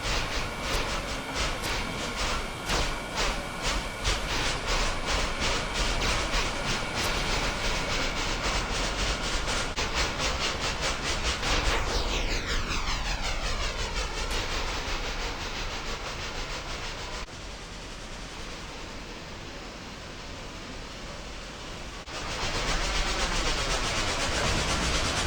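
Two EE locomotives work a commuter train in Cincinnati, a loud continuous rumble with rhythmic clickety-clack of wheels over rail joints, rising and falling as the train passes close by, with hiss and no talking.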